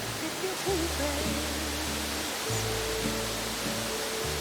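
A 26 m waterfall in a primeval forest in Mexico gives off a constant, broad rushing roar, with music playing over it throughout.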